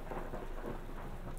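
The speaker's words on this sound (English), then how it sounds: "Is it because it's raining?" Rain and thunder in the Parkitect park-building video game, a steady wash of rainfall under a low continuous rumble of thunder, with no voices.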